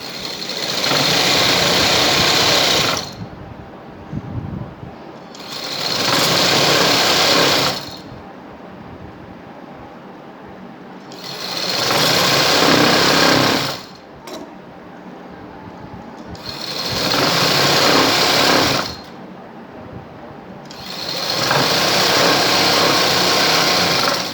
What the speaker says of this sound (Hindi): इसकी सिलाई लगाएंगे।